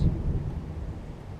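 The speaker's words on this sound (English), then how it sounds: "And I'll get in before the thunder hits." Low, rolling thunder rumbles through an outdoor setting, a steady deep roar that fills the whole clip at moderate volume, with a faint hiss of possible rain behind it.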